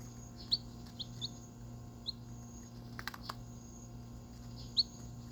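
Short, faint chirps come at scattered intervals over a steady low electrical hum, with a brief clatter partway through.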